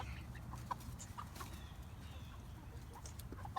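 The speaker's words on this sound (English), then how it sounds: "what are these chickens? What kind of chickens are those? Silkies." Silkie chickens clucking on a family farm: scattered short clucks and calls, near and moderately loud, over a steady low rumble of background noise.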